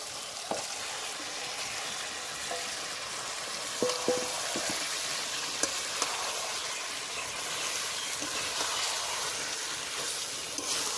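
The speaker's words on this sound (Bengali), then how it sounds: "এবার মাংসটা দিয়ে ভালো করে কষে নেবো" Marinated chicken in a ground spice paste fries in hot oil for a village-style chicken curry, giving a steady, moderate sizzle throughout with a few faint clicks of a utensil.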